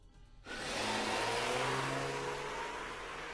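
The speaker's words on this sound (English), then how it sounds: "The car speeds off like a bullet." A limousine in the Steins;Gate video game speeds off, its engine surging abruptly into a loud, sustained roar that holds steady and then eases slightly, with no one speaking.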